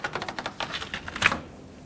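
An old rubber weatherstrip seal is peeled off a 2011-2016 Ford F-350 door, giving a quick run of close, sharp crackling ticks that ends in a slightly louder rip.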